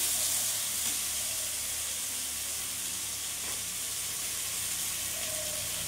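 Mustard and poppy seed paste fries in a pan over a dried red chilli tempering on low gas flame, as the base for sarpunti fish curry: a steady, soft, even sizzle throughout, with no talking.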